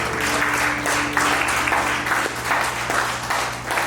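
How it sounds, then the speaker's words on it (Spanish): Applause for Christ at a church service: a loud, sustained crowd clapping that fills the room for several seconds with a faint hum underneath. "Hay un aplauso a Cristo."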